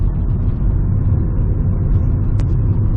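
A Chevy Cobalt engine runs with a steady low rumble, its gear changes hard to pick out, heard close and continuous with no talking.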